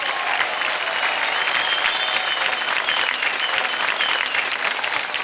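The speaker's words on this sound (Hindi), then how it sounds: "जोरदार तालियां हो जाए हमारी मिठू बच्ची के लिए" Loud, dense audience applause for a young dancer on a televised dance competition stage fills the whole stretch, steady and close with crowd noise mixed in and no speech.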